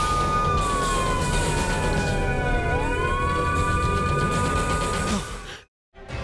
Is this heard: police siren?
yes